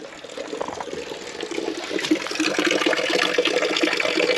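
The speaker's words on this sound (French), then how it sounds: "Là on a une fontaine. C'est très rare que les fontaines soient ouvertes en hiver pour l'eau." Water runs steadily from a public drinking fountain sheltered by a small roofed house, kept open in winter, a continuous splashing flow that grows slightly louder and fuller over a few seconds, with no voices.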